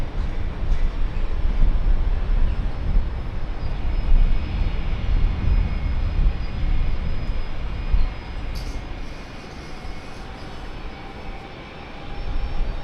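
A United airliner on a direct flight from San Francisco lands at Brisbane Airport, its engines a broad, steady roar close by that rises and eases over several seconds, with no voices.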